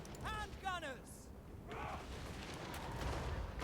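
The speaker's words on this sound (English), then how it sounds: "Oh, beautiful cannon shots." Cannon shots boom and crackle amid battle noise in Total War: Warhammer 3 siege combat, with a chirpy creaking mechanism sound early on and a continuous rumbling din afterward.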